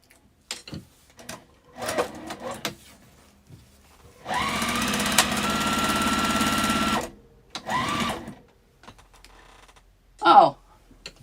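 A sewing machine powers through heavy-duty sewing in one sustained, loud mechanical run of a few seconds, with scattered speech and handling noises before and after it.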